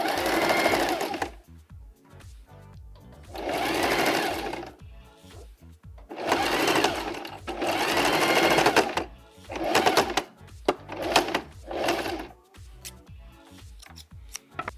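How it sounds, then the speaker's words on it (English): A sewing machine runs a straight stitch joining fabric pieces, whirring in several bursts of a few seconds each separated by short pauses, close and clear with no talking over it. "we will have to sew running straight stitch, joining the pieces together completely"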